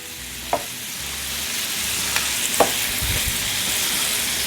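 Shrimp fry in a pan with a continuous close sizzle, broken by a few faint clicks and taps from the utensils.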